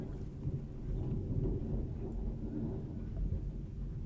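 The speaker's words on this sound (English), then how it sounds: "I don't know if you guys can hear that thunder. It is getting loud." Thunder rumbles through a severe Ohio thunderstorm with lightning, hail and strong winds, a steady low, heavy roll sustained for the whole stretch without any talk over it.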